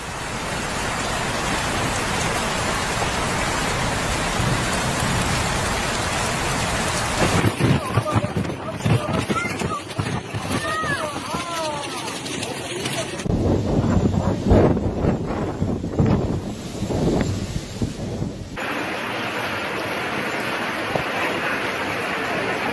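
Heavy typhoon rain lashes down with gusting wind during Typhoon Wipha's level 14 storm in southern China, a dense continuous roar shifting between several loud, close stretches of downpour and surf-like rushing.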